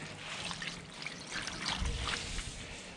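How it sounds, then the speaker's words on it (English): Water from a 5-gallon bucket splashes and trickles over a painted surface as it is rinsed, a steady close pour lasting a few seconds without speech. "Let's go ahead and do a little rinse. Unfortunately, our hose doesn't reach all the way over here, so we're using a 5-gallon bucket."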